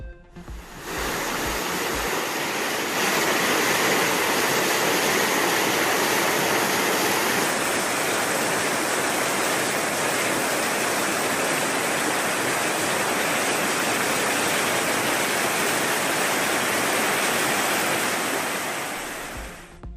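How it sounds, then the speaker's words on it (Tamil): Floodwater surges through rivers swollen by heavy rain, sweeping over low causeway bridges. A loud, steady, broadband roar of rushing water rises within the first second and holds unbroken to the end, with no voices. "பெய்த கனமழையால் ஆறுகளில் வெள்ளப்பெருக்கு"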